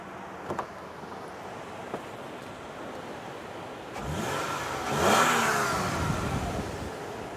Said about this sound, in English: I'm going to rev up the engine.